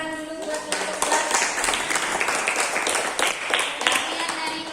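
A classroom audience claps for a presentation group, with a steady, fairly loud burst of hand clapping that carries through the whole stretch, mixed with some voices.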